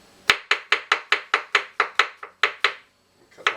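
Knife slicing mushrooms thinly on a cutting board for a lamb gravy, about a dozen quick, evenly spaced crisp chops close up, a short pause, then a couple more cuts.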